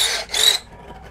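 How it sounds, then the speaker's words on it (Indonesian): A cheap generic cordless drill bites through material in two short bursts of high whining buzz, the second slightly louder, then winds down to a faint hum. "murah meriah, bor generik bisa begini"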